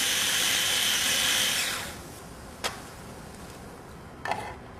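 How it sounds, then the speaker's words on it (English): A small food processor whirs loudly as it purees corn flakes, a steady grinding buzz for about two seconds that then cuts off, followed by quiet with two brief clicks or knocks. "My little food processor."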